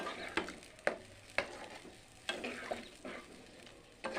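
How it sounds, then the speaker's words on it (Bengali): A spiced masala sizzles quietly in a pan while a spoon taps and scrapes against the metal in regular, evenly spaced strokes, soft and close. "এখন দিয়ে দেবো একটু গরম জল দিয়ে"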